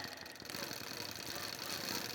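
A machine runs continuously, stitching a Baltimore Album quilt with a faint, fast rhythmic chatter throughout.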